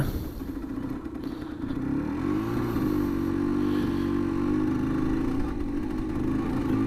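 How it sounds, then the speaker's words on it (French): Badly tuned Yamaha TDR 125 motorcycle riding along a road, its engine droning steadily with wavering pitch and rising revs, loud and close throughout with wind rumble and no talk. "on filme la route et le bruit de la TDR mal réglé"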